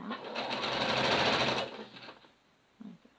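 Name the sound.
sewing machine reinforcing a seam on a dress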